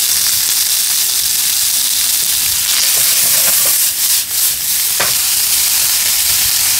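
Bacon and onion sizzling steadily in a hot pan, a continuous loud frying hiss with occasional stirring scrapes and brief pops, no talk.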